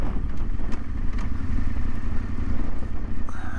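Yamaha Ténéré 700 adventure motorcycle ridden off-road, its engine a steady close rumble with clattering bits throughout, no talk.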